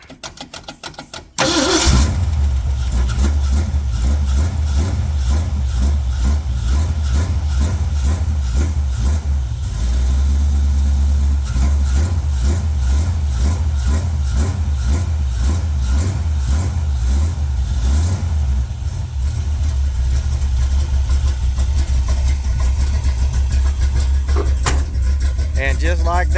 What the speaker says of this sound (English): We're gonna actually do a cold start on this thing.